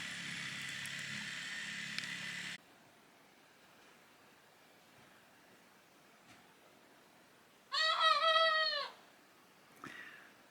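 A young rooster chick's strained, wavering attempt at crowing rises briefly from quiet surroundings after a burst of steady noise, followed by a shorter faint squawk.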